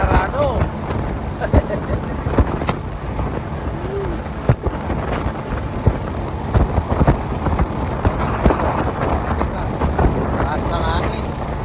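Strong wind buffets the microphone with constant roaring rumble and gusting bursts, while a voice talks faintly underneath.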